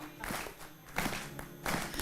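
Audience at a Hindi poetry recital breaking into bursts of applause, with two or three swells of clapping rising and fading across the moment, moderately close and somewhat muffled.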